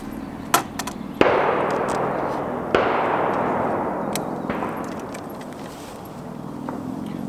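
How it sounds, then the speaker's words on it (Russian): A Mathews VXR28 compound bow fires an arrow at a 3D boar target outdoors, giving a sharp snap and then a second crack on impact, each followed by a long ringing, fading decay. "выстрелим в кабана."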